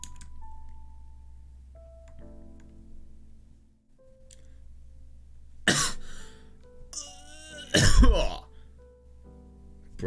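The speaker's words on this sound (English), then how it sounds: "what a cough" A cartoonish cough from an animated visual novel scene, loud bursts near the middle and end over a low steady hum and soft synthesized tones.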